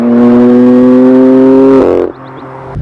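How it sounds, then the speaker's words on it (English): A BMW M4 Competition F82, turbocharged, with its quad exhaust valves opened in Sport mode: a loud, steady engine drone, then a brief crackling burst of pops before the sound drops away and burbles quietly. "But if you put it on Sport or Sport Plus, it does open up those valves and you get a lot of pops."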